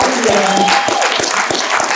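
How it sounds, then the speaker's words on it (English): A convention crowd applauds panelists after a fan panel, steady clapping with a few sharper individual claps and voices mixed in. "give them a big round of applause"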